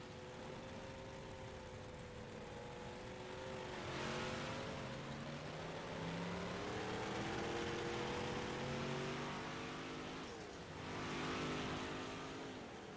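Several sprint cars race around the Lernerville dirt track, with engines droning and rising in pitch as they pass, swelling loud and then fading on each sweep by.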